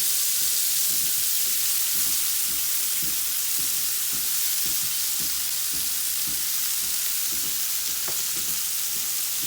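Fiddleheads fry in a pan, making a continuous, even hiss of sizzling oil with soft, regular scrapes of stirring, close and alone without speech.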